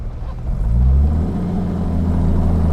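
A 1964 Jaguar E-Type Series I coupe pulls away as the clutch engages, its engine note swelling into a smooth, loud, steady drone from inside the car.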